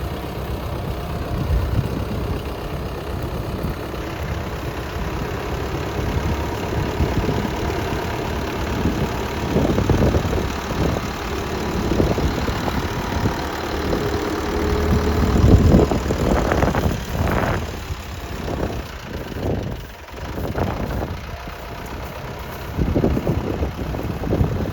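Tractor engine idling outdoors on a farm, a continuous loud low rumble with irregular knocking pulses that grow more pronounced in the second half.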